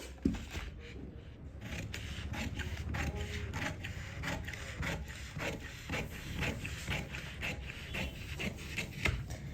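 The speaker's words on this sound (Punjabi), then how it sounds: "ਦੇਖੋ ਇਹਨੂੰ ਮੈਂ ਕਟਾਈ ਕਰ ਲਿਆ" Scissors cut through a paper pattern chart for a salwar, giving a close, quiet series of rhythmic crisp snips and rustling paper with no talking.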